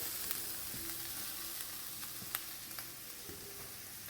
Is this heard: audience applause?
no